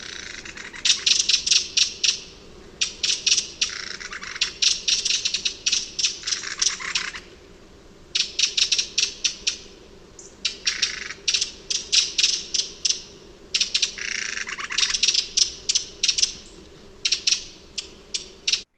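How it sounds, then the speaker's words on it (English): Winter thrush giving dry, scolding rattle alarm calls like a football rattle, repeated in bursts of rapid clicking rattles with brief pauses between, fairly clear against a quiet background. "dry rattles and this kind of scolding, rattling call, the alarm call"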